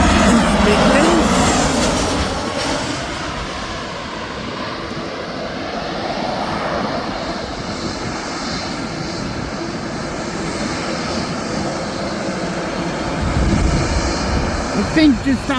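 An aircraft engine roars at Birmingham Airport, a loud broad rumble that swells, eases and builds again across the stretch, with a voice speaking briefly near the end.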